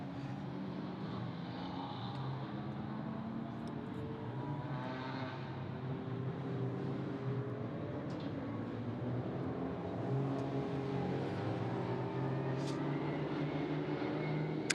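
Race cars, including a Ligier, a Vortex and a Porsche, head out for qualifying at Magny-Cours, a continuous low engine drone at a distance, fairly faint and steady throughout.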